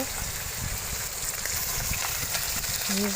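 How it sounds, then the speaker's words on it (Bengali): Puti fish fry in a wok over a village fire, a dense steady sizzle close to the ear with scraping stirs and a brief muffled voice near the end. "এই মাছটা এদিকে এক সাইডটা ভাজা হয়ে গেছে"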